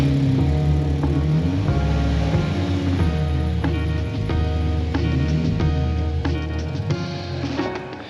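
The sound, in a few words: car reversing into the driveway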